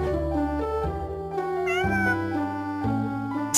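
A cat meowing repeatedly, a string of drawn-out, tonal meows with sliding pitch, close and clear, one call running into the next with no talk.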